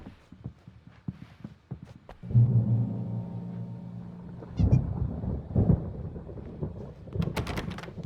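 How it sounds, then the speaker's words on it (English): Thunderstorm in Alan Wake Remastered: a deep rolling thunder rumble swells up and holds for a few seconds, followed by further low crashes, with scattered knocks and footstep-like taps before and after. "There's a storm coming. Oh, what a storm."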